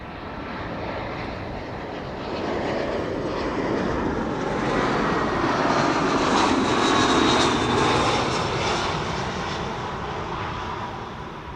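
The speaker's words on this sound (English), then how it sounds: "This is BA Flight 430 arrival from London Heathrow, an A320." A British Airways A320 jet arrives at Amsterdam Schiphol, its engine noise a steady whining roar that swells as it passes and then fades slightly, heard alone at moderate distance with no talking.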